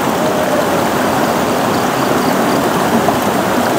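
A river stream flows in a steady, loud, broadband rush of water, continuous and close, with no voices over it.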